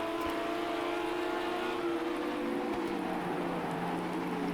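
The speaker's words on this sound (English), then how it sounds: "You can hear the rain pitter-pattering on top of the roof there." Rain patters steadily on the roof of a Ferrari 488 GT3 or Lamborghini Huracan GT3 racing at Zolder in Project Cars 2, a constant hiss under a loud sustained engine whine.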